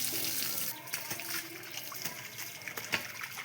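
Water being poured onto garden plants, including a coconut tree, a soft irregular trickle and splash heard close by at a low level, with a voice speaking over it.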